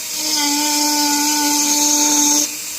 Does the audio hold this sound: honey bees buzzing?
no